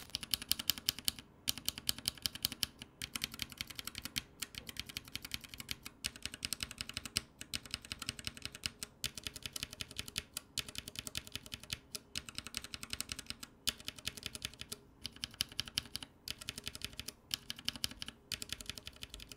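A mechanical keyboard with Glorious Panda tactile switches is typed on steadily at close range. The dense stream of crisp clacks continues without a break, and no one speaks.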